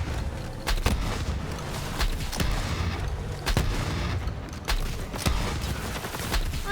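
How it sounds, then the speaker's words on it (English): Gunfire rattles in Borderlands 3 as robot ball targets are shot, a run of sharp, booming shots in irregular bursts over a steady game background. "Let's shoot our robot ball targets that we found."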